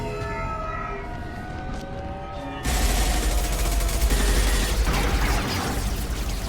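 Gunfire in Mass Effect 2 starts abruptly partway through as a dense, loud fusillade of rapid shots, following a quieter stretch of tonal, siren-like ambience.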